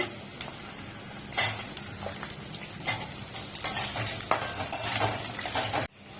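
Potato and pointed gourd pieces frying in a panch phoron tempering, a constant sizzle with repeated scraping stirs and clatters against the pan, ending abruptly; no voices.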